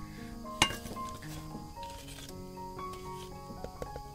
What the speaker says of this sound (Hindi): और अभी प्याज ऐड कर रही हूँ।